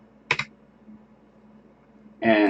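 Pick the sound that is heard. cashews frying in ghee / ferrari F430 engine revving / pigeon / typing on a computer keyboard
typing on a computer keyboard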